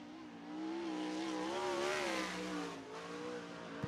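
A 360 sprint car engine drones on a dirt oval during qualifying, a sustained nasal roar that rises and wavers in pitch as it winds up through the turns, then eases slightly, heard from some distance.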